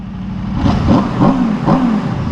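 A 2023 Aprilia RSV4 Factory motorcycle engine revs close and loud, rising in three quick repeated blips with a rough, throaty drone between them.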